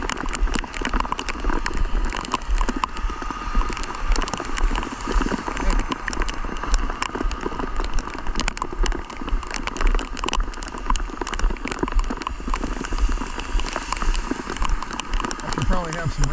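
Steady rain falls at a roadside accident scene where a semi truck has rolled over in spring weather, a constant dense hiss of drops that holds at one level throughout.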